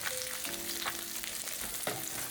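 Eggs frying in a pan on medium-high heat, a constant crackling sizzle with occasional louder spits and scraping stirs, close and steady, no talk.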